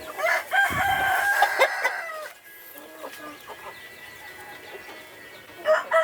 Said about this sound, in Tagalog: Yun yung tandang na yun.